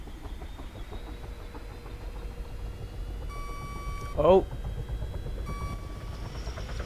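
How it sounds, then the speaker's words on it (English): A helicopter warning alarm in the video game Arma 3 sounds as a steady electronic tone in two stretches over engine drone, with a player's brief exclamation and voices around it. "I heard like the alarm going off."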